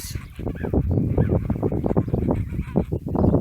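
A flock of geese honking loudly and continuously, many overlapping nasal calls packed close together.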